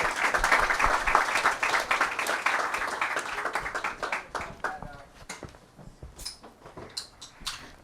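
Audience applause for two guests welcomed onstage at an evening AI talk event, loud dense clapping at the start that thins into scattered claps and a few voices over about eight seconds.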